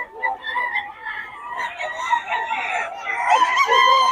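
A Boston sweater gamefowl rooster crows and clucks nearby, its harsh, rising calls stretching across the whole stretch, with faint human chatter in the background.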